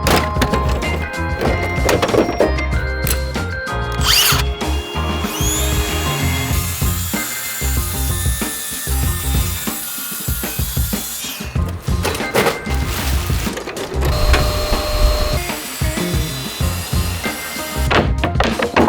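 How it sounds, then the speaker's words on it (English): A saw cuts through pieces of wood for a van build box, with sustained loud buzzing runs broken by short pauses and knocks of timber being handled, the cutting close and dominant throughout. "it's time to get out the saw and start cutting this thing up"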